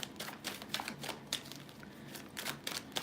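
Tarot cards are shuffled nearby in quick riffling bursts and soft flicks, faint and irregular with short pauses between.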